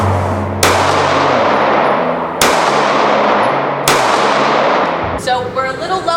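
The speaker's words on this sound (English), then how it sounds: "So now we're going to zero in the Baldr Mini on the Glock 43X with the Recover Tactical Rail." Three loud, sharp shots from a Glock 43X pistol ring out at even intervals, each followed by a brief decaying ring, fired during zeroing of a mounted weapon light.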